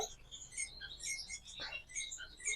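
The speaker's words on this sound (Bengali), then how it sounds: "দাদার মূলত পাখি আছে golden Finch yellow golden Finch আছে" Yellow golden finches chirp in a cage, their bright high twitters and short trills coming in quick overlapping bursts throughout, close and fairly clear over a faint low background hum.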